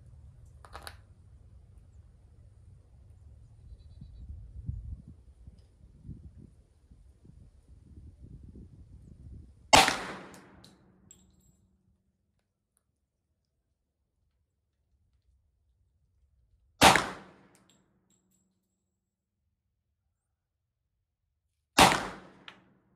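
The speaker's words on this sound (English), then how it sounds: "There's 3 shots." Three sharp gunshots from a Glock 10mm pistol ring out alone at a range, spaced several seconds apart, following a stretch of low rumbling handling noise.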